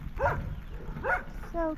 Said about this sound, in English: She's barking.